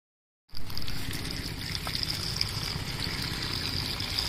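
Chopped pointed gourds are rubbed and rinsed in water, giving a continuous close trickling, sloshing wash that starts abruptly after a brief silence.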